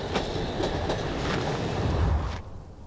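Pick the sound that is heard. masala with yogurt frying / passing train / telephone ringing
passing train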